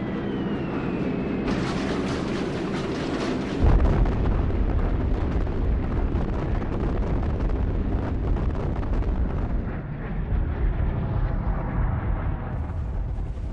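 Heavy bombing explosions from B-29 Superfortress air raids on North Korean weapons factories, a continuous loud, rumbling roar of blasts with a deep surge of low boom partway through, sustained and dense throughout.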